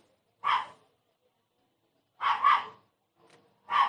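Fierce dogs bark in separate loud bursts: a single bark, then a quick double bark about two seconds later, a faint short yelp, and another sharp bark. Quiet gaps fall between the bursts, and no one speaks.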